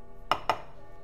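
Two quick metallic scrapes or clinks from a cake pan being cleaned out while making a Boston cream pie cake, close and fairly faint, with no talk.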